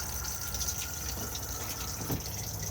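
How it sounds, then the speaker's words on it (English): Cassette toilet flushing in an Elddis Majestic 120 caravan, a steady close rush of water filling the bowl, running continuously with no talk. "to flush, just hold down the blue button"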